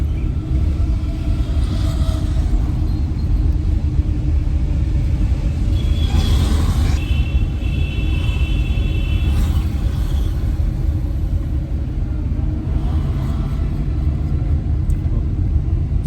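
A car engine idles and then pulls away as a learner driver releases the clutch and brake and eases onto the accelerator: a steady, loud low rumble from inside the cabin, with faint voices in places.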